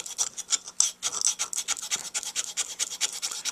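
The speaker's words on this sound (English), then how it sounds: "So I'm using the coarse" Coarse sanding stick rasped across a Dukoff D9 saxophone mouthpiece to shape it and remove file marks, in quick, steady back-and-forth strokes, scratchy and close, with no voices.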